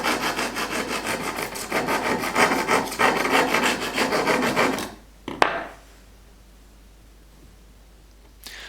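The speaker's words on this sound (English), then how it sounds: "take a little round file and file them off" A small round file rasps burrs from inside metal tubing cut for a hide pole, a steady rhythmic scraping stroke after stroke for about five seconds, loud and close, then it stops with one sharp knock before quiet.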